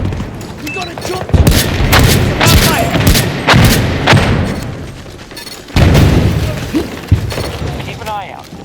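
Rapid gunfire and heavy booming blasts in the Battlefield 2042 video game, AEK-971 rifle bursts among them, loud and close in irregular clusters, with in-game voices shouting over the combat.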